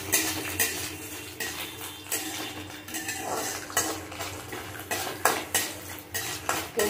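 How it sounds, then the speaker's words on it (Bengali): Coconut pieces frying in a pan while being stirred, with repeated metallic scrapes and clinks of the utensil against the pan over a continuous sizzle, close and fairly loud. "নারকেলের টুকরোগুলো ভেজে নেব।"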